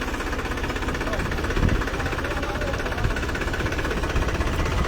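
A tractor engine runs steadily at a continuous rough, chugging drone with a knocking texture, close and loud throughout.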